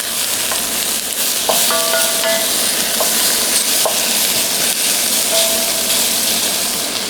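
Chicken bones with a little meat browning in fat in a pan, sizzling and frying steadily throughout, with a few faint clinks and scrapes of stirring over the constant hiss.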